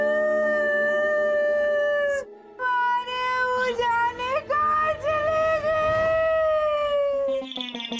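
A dog's long, wavering howl plays as a Hindi TV serial sound effect, loud and close, rising and bending in pitch over several seconds, broken by a short gap and ending on higher yelps.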